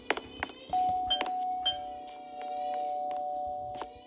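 Doorbell ringing in the Roblox Brookhaven video game, a clear chime tone held for several seconds, overlapped by a few short clicks and taps.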